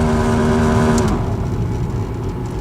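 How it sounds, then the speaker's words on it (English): A car's fan blower motor runs loud and steady, a continuous whirring hum with a tonal whine that drops away about a second in, leaving a rougher, broadband rush. "Yes, this is the fan blower motor."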